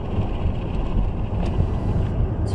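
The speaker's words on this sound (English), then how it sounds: "It's really windy." Strong wind buffets the microphone outdoors, a steady loud low rumble with gusty fluctuations throughout and no talking.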